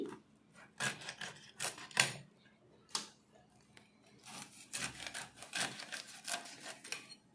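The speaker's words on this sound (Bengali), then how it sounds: "মাছটা এবার কাটছি।" A knife cuts hilsa fish into pieces for a Bengali mustard-poppy seed dish, giving repeated sharp chopping and scraping strokes at close range, with irregular bursts and short pauses and no talking.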